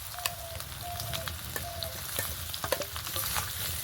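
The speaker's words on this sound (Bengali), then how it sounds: "সব কিছুর সঙ্গে ভালো করে আলুটা একটু নেড়ে চেড়ে মিশিয়ে নেব।" Boiled, hand-mashed potato being stirred and fried in a pan with ginger, giving a continuous close sizzle with repeated scraping and tapping of a spatula against the pan.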